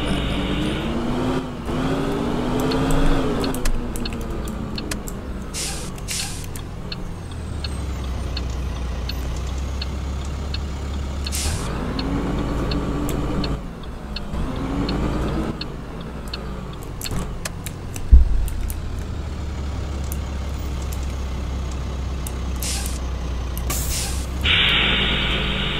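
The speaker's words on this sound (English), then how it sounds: "It does have better engine sounds, gotta tell you that." A simulated 2000 AmTran FE bus in the Rigs of Rods driving game, its engine droning and rising and falling through gear changes, with hisses of air brakes and clunks, loud and continuous with no talk.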